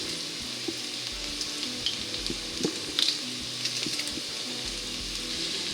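Onions with about four crushed garlic cloves frying in a pan for minestrone, a steady close sizzle with occasional louder crackles and a few light utensil clicks, no voices.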